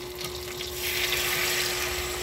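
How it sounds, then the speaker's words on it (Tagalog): Water pours into a cooking pot for chicken feet adobo, a steady close rush that swells partway through and holds evenly, with a faint hum underneath. "Lagyan na po natin siya ng tubig at iba pang panimpla."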